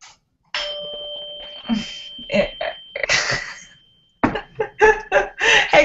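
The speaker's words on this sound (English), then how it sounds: "Is that the doorbell?" A two-tone doorbell chime rings out clearly, followed by coughing and people talking nearby.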